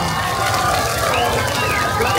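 A Christmas light festival crowd at a Vietnamese parish applauds loudly, a steady dense wash of clapping and cheering voices with no break.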